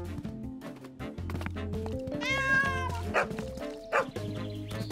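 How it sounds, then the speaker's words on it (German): A cartoon cat and dog fight in a Bob the Builder children's episode, with a drawn-out yowling caterwaul and scattered barks and thumps over busy background music. "Könnte jetzt jemand diese Katze und diesen Hund trennen?"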